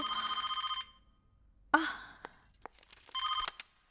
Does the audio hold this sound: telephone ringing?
yes